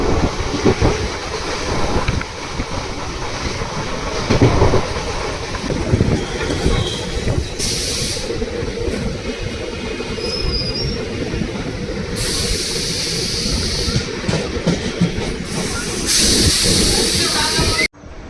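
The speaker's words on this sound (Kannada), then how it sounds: "ಮೆಮೊ ಟ್ರೈನ್ ಆದರೂ ಎಷ್ಟಲ್ಲಿ ಹೋಗ್ತಿದೆ ನೋಡಿದ್ರು, 85 ಮೇಲೆ ರೀಚ್ ಆಗ್ತಾ ಇದೆ" A Tumkur–KSR Bangalore MEMU train runs at over 85 km/h, giving a loud, continuous rumble and rattle of wheels on rails with recurring bursts of high, hissing wheel noise.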